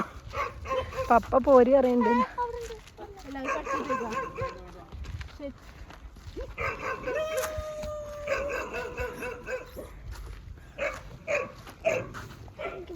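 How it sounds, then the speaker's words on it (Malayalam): Dogs bark and yip in short bursts at moderate distance while people talk over them nearby. "പട്ടികൾ കുരയ്ക്കുന്നു."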